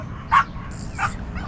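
A dog gives two short barks, a sharper, louder yelp followed by a softer one, close by over a low outdoor rumble.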